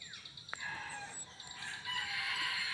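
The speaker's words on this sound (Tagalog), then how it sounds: "madidinig nyo talaga yung mga tilaok ng mga manok bahay" A rooster crows from a moderate distance, a drawn-out cock-a-doodle-doo rising over a faint outdoor background, with other fowl calling faintly.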